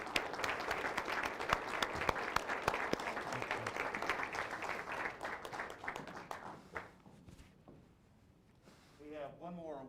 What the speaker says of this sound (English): give one more round of applause for that